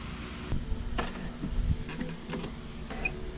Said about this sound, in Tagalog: i-on muna yung printer, no, para tong head mapunta sa gitna.